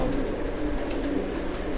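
Pigeons coo softly in a pigeon loft in Pakistan, low murmuring calls repeating over a faint background hum, fairly quiet and without speech.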